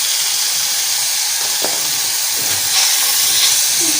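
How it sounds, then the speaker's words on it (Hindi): Bell peppers with tomatoes and onions sizzle in a frying pan, a steady bright hiss filling the sound at close range with a few soft clinks, and no talking. "अभी हम शिमला मिर्च जो एक कलर हमने ली थी वो डाल देते हैं"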